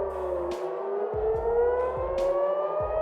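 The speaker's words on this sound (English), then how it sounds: "Sirens echo across Tel Aviv." Wailing air raid sirens in Tel Aviv at night rise and fall in long, overlapping tones, echoing from a distance, with a few sharp bursts of noise cutting in during a missile attack.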